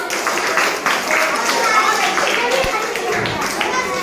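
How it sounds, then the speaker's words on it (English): A group claps for a girl after her story, a brisk patter of hands with a voice talking over it. "Clap for her."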